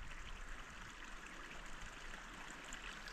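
A creek flowing through woods, a soft steady trickling murmur heard faintly at a distance with no other sounds.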